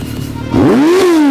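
A Suzuki Hayabusa motorcycle exhaust idles with a rough, throbbing burble, then is revved hard into a loud, rising, tonal roar that peaks and eases slightly while staying loud and close.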